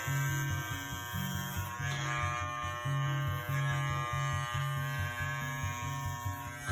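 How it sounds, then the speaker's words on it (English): Electric hair clipper fitted with a guard cutting hair, a steady close buzzing hum with rhythmic pulsing as it passes through the hair, heard alone. "And with that same guard on the clipper, we put it right on that part and go straight back."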